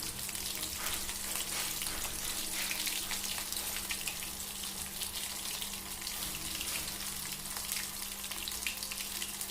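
Boneless chilli chicken pieces sizzle steadily in a hot pan with oil, a dense continuous frying hiss with faint scraping as the pieces are turned, close and even throughout.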